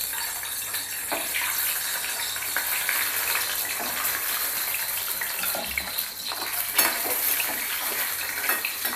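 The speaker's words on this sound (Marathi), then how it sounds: "कढईमध्ये आपण तेल गरम केलेलं आहे आणि त्याच्यामध्ये ही जी आपण अंडी आहेत चिरा देऊन घेतली होती ना, ती आपण सोडूया" Slit boiled eggs frying in hot onion-flavoured oil in a wok, a steady close sizzle with occasional scraping and stirring clatter throughout.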